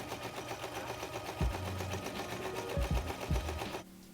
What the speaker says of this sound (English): For the sleeves, you want to do a zigzag stitch across the top and the bottom.